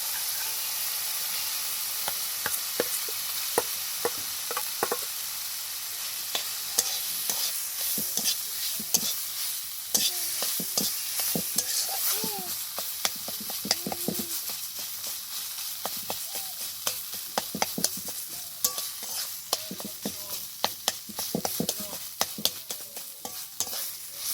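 Paneer pieces fry in a spiced masala for a vegetarian potol paneer, giving a continuous bright sizzle with frequent spatula scrapes and stirring clicks that grow busier over time; no speech.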